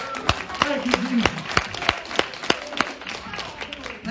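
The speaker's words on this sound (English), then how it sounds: "Just clap your hands for the Lord." A church congregation at Sunday morning worship claps in a steady, roughly even beat, about two claps per second, while voices speak over the clapping.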